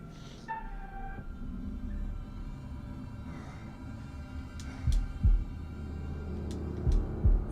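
Slow, deep heartbeat thuds in the Man of Medan video game, a few low pulses in the later part over a quiet droning hum.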